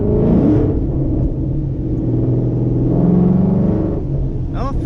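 Car accelerating hard through its gears, a close, loud engine rumble that rises and drops as it shifts, with a brief squeal near the end.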